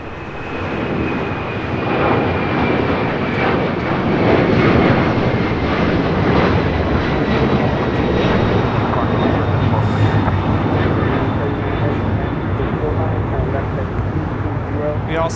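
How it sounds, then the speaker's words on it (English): A LATAM Boeing 767 rolls down runway 25 right at LAX for takeoff, its engine roar building into a loud, sustained broadband rush with a rising whine, steady throughout as it accelerates past. "we've got the Latam 767 now rolling down 25 right"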